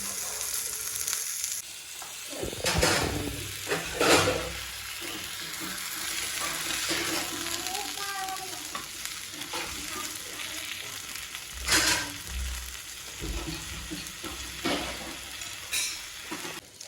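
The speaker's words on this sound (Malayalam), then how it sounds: "ചെറിയ തീയിലാക്കിയിട്ട് വേവിച്ചെടുക്കട്ടോ നന്നായിട്ട് ചുട്ടെടുക്കുകയാണ്" Fish wrapped in pumpkin leaves fries steadily in a pan over low heat, a continuous close sizzle broken by several louder bursts of spitting oil and occasional scraping.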